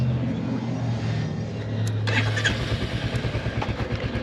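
Royal Enfield Hunter 350 motorcycle idling nearby with a steady low thump, its engine note rising into a rhythmic, pulsing rumble partway through, heard alone without talk.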